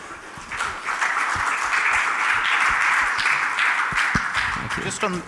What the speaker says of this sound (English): Lovely round of applause for our third speaker as well.